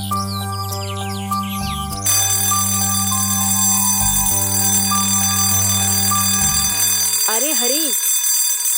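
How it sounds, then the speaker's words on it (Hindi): An alarm clock rings continuously and loudly with a steady electronic tone, while a short voice speaks near the end as the ringing gives way. "कम से कम अलार्म तो बंद कर दे"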